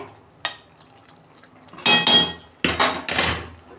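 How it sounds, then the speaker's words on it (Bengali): A pot lid set onto a pan of cabbage curry: a single light clink early on, then a cluster of loud metallic clatters and knocks as the lid is handled and settled. "এই যে ঢাকা দিয়ে দিচ্ছি"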